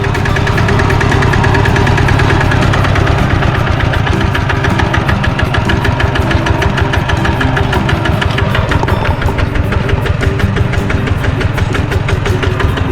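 A farm tractor (i-taek) engine running in second gear chugs loudly and steadily nearby, its rapid knocking rhythm continuous throughout without any voices.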